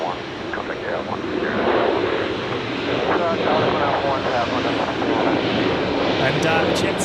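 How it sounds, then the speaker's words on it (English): A Jetstar airliner touches down at Brisbane Airport, its engines roaring steadily and at a distance while a voice speaks over the noise. "Jetstar 937 touching down behind from Cairns"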